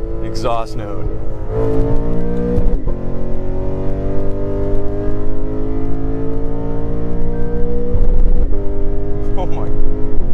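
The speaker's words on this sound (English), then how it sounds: "I accidentally hung on to the rev limiter a little bit too much right there." A 2018 Lexus RC F V8 revving hard and hanging near the rev limiter, a loud sustained exhaust drone with sharp crackles and brief cuts as the revs bounce.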